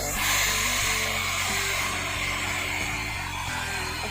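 A hair dryer blows close and steady over freshly bleached, highlighted hair. Its whooshing airflow and motor hum hold at an even level for the whole stretch, with no one speaking.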